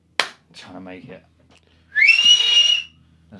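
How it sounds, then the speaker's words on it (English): A person lets out one loud, high, sustained whistle lasting nearly a second, sliding upward at the start, after a short burst of nearby speech-like sounds in a quiet room. "I've always wanted to whistle like that"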